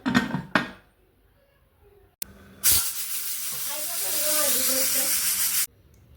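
Pressure cooker cooking urad dal with oil and a pinch of soda lets out a sharp, loud hiss of steam that holds for about three seconds after a few clanks, then cuts off abruptly.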